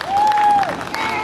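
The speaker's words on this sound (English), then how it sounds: "Where's a giant round of applause for the bravest guy in town?" A crowd at a Halloween fright-fest show applauds briefly over a sustained electronic tone, with a voice talking across the clapping.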